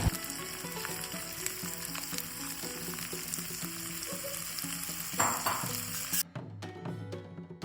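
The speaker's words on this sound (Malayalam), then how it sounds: "ബട്ടർ മെൽറ്റായതിനു ശേഷം നമ്മൾ അരിഞ്ഞു വെച്ചിരിക്കുന്ന സവാള ഇടേണ്ടതാണ്." Chopped onion fries in melted butter, a steady close sizzle with stirring scrapes and clinks, then the sizzle cuts out abruptly near the end, leaving a few faint clatters.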